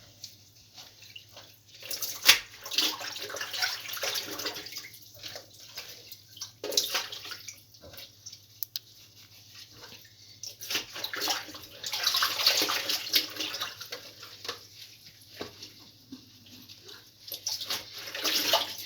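Water runs and splashes into a container of vine leaves set to soak, close and uneven, swelling in bursts over a steady low hum, with drips between and no talking.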